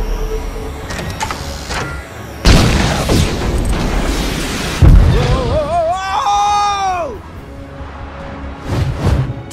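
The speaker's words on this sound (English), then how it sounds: "I'm reading an incoming ship. Watch out! It's about to open fire!" A ship opens fire in the Lego Marvel Super Heroes video game, with loud booming blasts and bursts, followed by descending whistling laser-like tones and a final crash, all loud and close.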